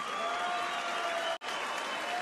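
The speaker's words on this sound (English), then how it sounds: "a round of applause for two warriors" A boxing crowd applauds two fighters after a bout: dense, steady clapping and cheering fills the arena, loud and continuous, with a very brief dip partway through.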